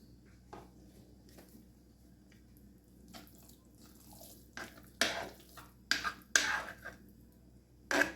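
A glass of water pours into a mixture of freshly squeezed orange juice in a kitchen, heard as several short splashing bursts near the end after quieter clinks and handling.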